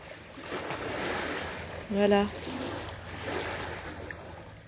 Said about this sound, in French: ce petit bruit ressourçant de l'eau, j'adore